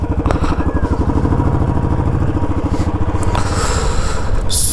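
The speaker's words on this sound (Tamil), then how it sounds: "ஸோ வண்டி எடுக்கிறோம், உள்ளே போகிறோம்" A motorcycle engine runs loudly and close by with a steady, rapid pulsing throb, on a bike ride on the hill roads between Manjoor and Kinnakorai near Ooty.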